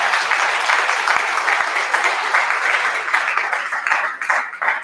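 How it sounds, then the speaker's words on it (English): A sustained round of applause from the audience at a Women's Day event for the guest speakers, dense steady clapping filling the hall from start to finish with no voices over it. "Give them a round of applause."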